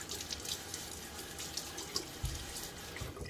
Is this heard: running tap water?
yes